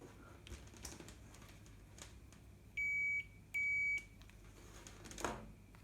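A Fluke 115 digital multimeter in continuity mode gives two steady, clear electronic beeps, each about half a second long with a short gap between them, heard alone over a quiet background.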